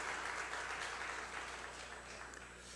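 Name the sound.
applause from church congregation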